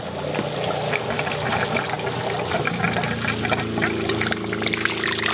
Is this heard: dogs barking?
no